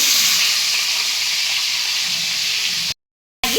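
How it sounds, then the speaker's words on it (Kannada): Chopped tomatoes frying in a pan make a loud, close, continuous sizzling hiss that stops abruptly into silence for a moment before resuming, with no voices. "ಈಗ ಕಟ್ ಮಾಡಿ ಇಟ್ಟುಕೊಂಡಿರ್ತ ಟೊಮೆಟೊಗಳನ್ನ ಹಾಕಿ"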